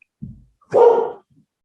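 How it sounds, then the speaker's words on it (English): A dog gives a single loud, close bark after a soft low grunt, then falls quiet apart from a faint trailing whimper. "What's he barking at?"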